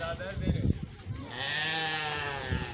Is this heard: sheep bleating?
yes